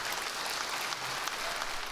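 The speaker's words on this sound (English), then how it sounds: "With applause from state lawmakers Monday" State lawmakers applauding in a legislative chamber, a short, even burst of clapping heard alone at moderate distance.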